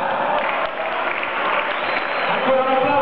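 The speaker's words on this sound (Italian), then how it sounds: "Ancora un applauso per Antonio Di Mario e per il giuri Luquarelli, che vengono premiati" Crowd applause at a boxing match after a draw verdict is announced, a dense, steady wash of clapping filling the arena throughout, with voices mixed in.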